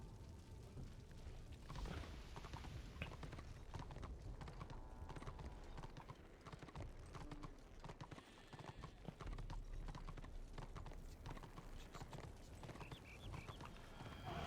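Steady clip-clopping of horse hooves in a video game, at a trotting rhythm, continuous and fairly close, over a low rumbling background.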